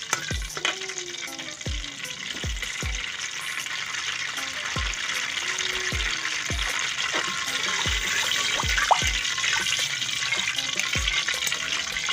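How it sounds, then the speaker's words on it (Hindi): Cardamom pods sizzle in hot oil in a pan for a Pakistani makhandi halwa, a steady close frying hiss with repeated low taps and stirring knocks throughout. "ये 4 इलायचियाँ शामिल कर रही हूँ, इनको कट कराना है। ऑयल हमारा गर्म हो गया है।"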